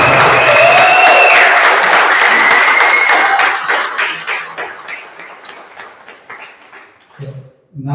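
An audience at a web development bootcamp demo day in Lisbon bursts into loud applause and cheering with whistles, then the clapping thins out and fades over several seconds.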